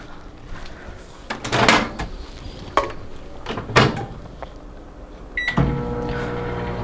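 Microwave warming cold rice: several clunks and clicks of the door and buttons, then a steady electric hum with beeps as the oven starts running.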